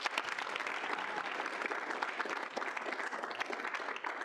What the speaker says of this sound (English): Give him a round of applause, too.